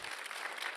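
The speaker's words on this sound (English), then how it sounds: "Let's give Father" An audience at a talk on Tolkien's faith applauds a speaker, a brief burst of dense clapping at moderate level.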